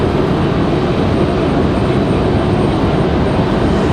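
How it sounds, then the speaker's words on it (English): Frontier Airlines airliner in Sky the Blue Jay livery landing on runway 23 right at Raleigh-Durham airport after arriving from Denver, heard as a steady, loud broadband engine roar holding even throughout, with no talking. "over here, 23 right. That coming in from Denver, Frontier 2440."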